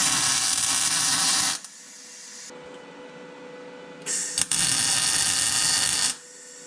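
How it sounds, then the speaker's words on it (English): Welding a bracket onto a brake line on a Barracuda during a rear disc brake swap, heard as two loud, steady buzzing welder bursts of about one and a half seconds each, separated by quieter pauses with a faint hum. "I can hold the bracket there and weld it in place."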